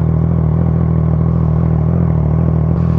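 A Triumph Trident 660 motorcycle fitted with a Firetong full exhaust warms up at idle, a steady, loud, close engine drone with a low rumbling pulse and no speech over it.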